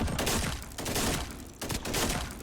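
FG42 assault rifle fire in a video game comes as dense, rapid bursts of close, loud gunshots in two or three clusters with brief gaps between them.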